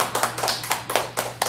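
A small live-stream audience gives the singer a brief round of applause, a handful of quick, uneven claps and taps, close and light, with no voices over it.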